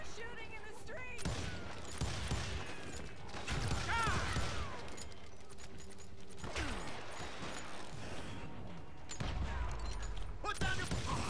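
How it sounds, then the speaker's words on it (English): Gunfire erupts in the street in the video game Call of Juarez Gunslinger, a busy run of broadband shots and impacts across the stretch, with game voices speaking over parts of it. "They're shooting in the street."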